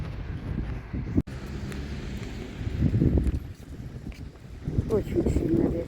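Very strong winter wind in Visaginas, Lithuania, roaring and buffeting the microphone in heavy gusts throughout, with someone talking over the noise.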